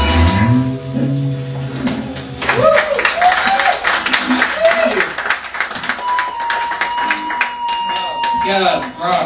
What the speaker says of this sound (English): Thanks everybody for clapping.